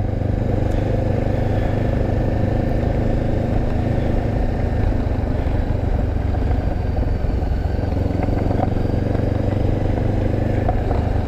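A Honda CB500X motorcycle on a ride, its engine a steady, loud, unbroken drone with constant mechanical rumble and wind, held at an even pace throughout with no speech.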